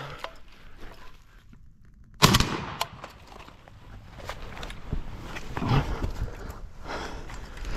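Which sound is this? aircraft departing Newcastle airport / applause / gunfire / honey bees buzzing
gunfire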